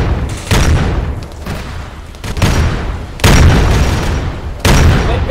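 Heavy gunfire and booming blasts in a video game battle against Chaos demons, coming in several loud bursts with low rumbling between them.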